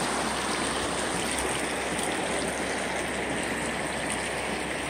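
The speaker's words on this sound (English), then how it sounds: "This is the Warm Springs" Steady, dense rushing of the Warm Springs River at a hot springs, heard close and loud with no break for the whole stretch, and no voices over it.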